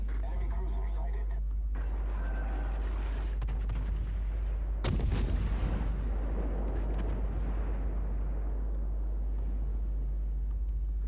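Naval artillery shells striking the player's warship in World of Warships, a sudden loud blast midway over a constant low engine rumble and continuous game noise, with no talk.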